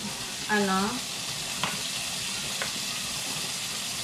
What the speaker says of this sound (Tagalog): Lagay na natin ang ating ground beef